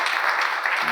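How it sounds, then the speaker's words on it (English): Brief burst of audience applause on a talk show, a dense wash of clapping for about a second. "Round of applause."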